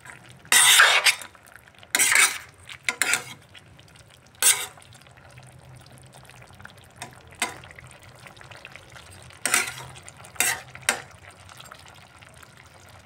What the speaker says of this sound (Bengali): আমি ভালো করে মিশিয়ে দিচ্ছি সবজিটা